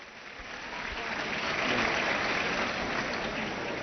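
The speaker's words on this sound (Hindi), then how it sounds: "जोरदार तालियां" A crowd at an outdoor distribution event claps as Emmanuel comes to the stage, a dense, continuous wash of applause that builds slightly and stays steady, sounding somewhat muffled.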